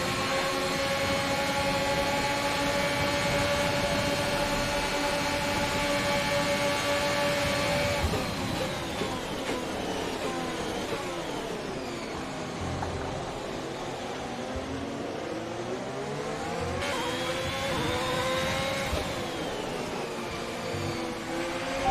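F1 2021 race cars racing after a green flag: a continuous loud, high engine whine with sweeping pitch changes as cars rise and fall through gears, several engines overlapping, no talk.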